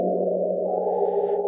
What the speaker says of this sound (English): Right now on the craziest sounding patch, but it's because it's smothered in reverb